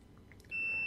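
An electronic device emitting a steady high-pitched beep as a phone is plugged in to charge, one sustained tone starting suddenly after a brief faint rustle.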